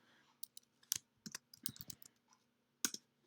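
Irregular bursts of keystrokes as a command is typed on a computer keyboard, the quiet, crisp clicks close by with short pauses between them and no speech.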